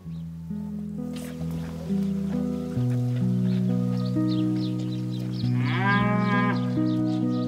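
Cattle on a small Georgian farm of about nineteen cows low repeatedly, several drawn-out moos overlapping at close to moderate distance, one rising call near the end, with faint farmyard background.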